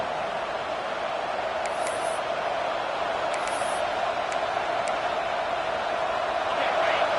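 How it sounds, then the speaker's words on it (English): A stadium crowd in the College Football 25 video game, with South Carolina on defense in the red zone, gives a steady, dense roar of cheering under commentary, with a few faint whistles rising over it. "the crowd coming to life here, trying to help this defense down in the red zone"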